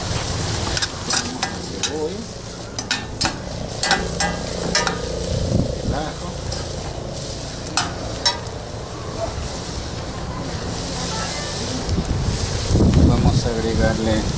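Chopped tomato frying in a pan with a steady crackling sizzle, clicks and scraping from stirring, and a person talking over it throughout.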